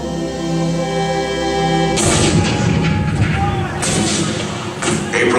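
Cannon fire at Fort Sumter, a show effect in Disneyland's Great Moments with Mr. Lincoln: after a sustained tone, loud booming blasts erupt near the two-second mark, with further heavy rumbling bursts following.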